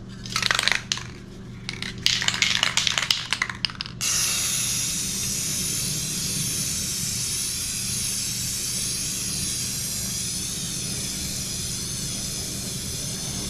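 A spray can shakes with rattling bursts, then lays a gloss coat over a spray painting in one long steady hiss that runs close and loud to the end.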